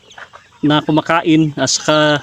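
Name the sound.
chickens clucking while eating on a farm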